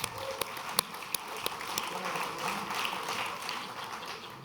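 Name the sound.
audience applause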